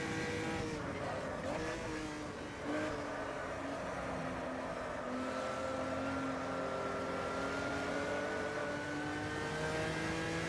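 Old school V8 race car engine roaring near and loud throughout, holding a fairly steady note with small pitch wavers as the throttle is feathered.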